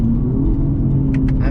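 New Aston Martin Vanquish with a ZF 8-speed automatic transmission, heard while driving as a steady, loud, low engine and road rumble that holds even throughout, with a few brief higher clicks near the end.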